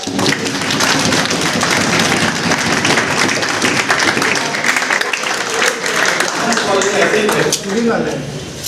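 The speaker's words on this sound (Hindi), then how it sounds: "फिर एक बात तालियां बजाइए" Loud, sustained applause from a university guest lecture audience fills the whole stretch, dense clapping with a few sharper taps, close and steady with no talk on top.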